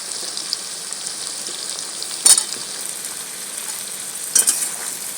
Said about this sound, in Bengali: আলু পেঁয়াজটাকে এরকম ভেজে দিচ্ছি দেখুন